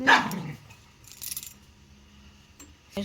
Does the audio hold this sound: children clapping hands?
no